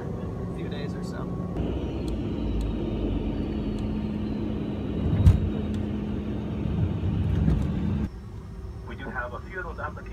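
Steady airplane cabin roar during a flight to Hawaii, a constant engine rumble with a flight attendant's announcement and other speech over it, dropping suddenly toward the end.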